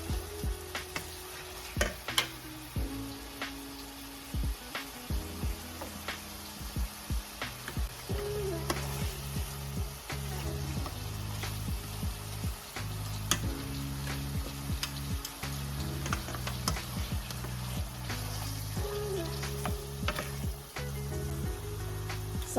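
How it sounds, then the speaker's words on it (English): Chopped onion sautéing in a frying pan for a tuna recipe, a steady sizzle broken by repeated scraping stirs and clinks of the utensil against the pan, close and fairly loud throughout. "Keep stirring it around because you do not want to burn your onion."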